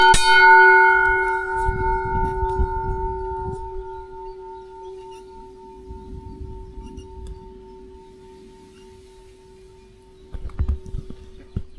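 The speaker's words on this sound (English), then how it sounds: "I'll try the bell anyway, see what happens." A bell rings out loudly once with a long, ringing tone that slowly fades, followed by low rumbling and a few faint knocks.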